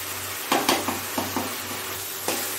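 Spice paste frying in hot oil for mutton sizzles steadily while a spoon scrapes and stirs the pan in several quick, close knocks.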